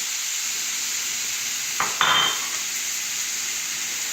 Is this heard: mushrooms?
yes